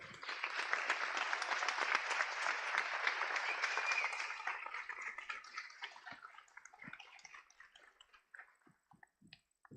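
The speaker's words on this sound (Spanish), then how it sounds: "Les pido un fuerte aplauso." Strong audience applause fills a science congress hall after a speaker's introduction, dense and sustained for several seconds, then thinning into scattered individual claps that trail off toward the end.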